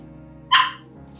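A dog gives one sharp, close bark while being watered with a hose in a garden wildflower meadow, followed by quiet background.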